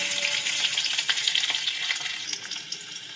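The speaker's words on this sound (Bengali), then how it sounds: "এই তেলেই দিয়ে দেবো ফুলকপিগুলো। এইগুলো একটু হালকা হালকা লাল লাল করে ভেজে নেব।" Cauliflower florets frying in hot oil in a pan for a Bengali rohu fish curry, a steady close crackling sizzle with bursts of spitting and stirring, loud and continuous with no talk.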